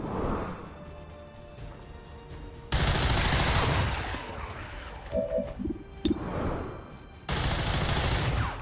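Gunfire in XCOM 2 aimed at the Lost, heard as two loud, dense bursts of shots, each several seconds long, separated by quieter game ambience and a few sharp impacts.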